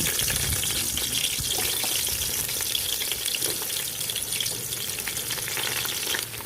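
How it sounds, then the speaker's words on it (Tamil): Onions sizzle and crackle steadily in hot oil for chicken biryani, a loud, continuous frying hiss close by with faint stirring. "வெங்காயம் வதங்கட்டும்"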